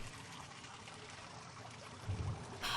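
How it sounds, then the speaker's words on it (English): Water drains in the game Still Life, a faint continuous trickling wash with a brief low thump near the end and a short bright burst at the close. "Do I have to sit here and watch the entire thing drain?"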